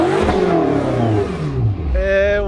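A BMW M5 F10 tuned to 700 hp revs hard, its engine note climbing and falling in loud, close sweeps before settling into a higher whine.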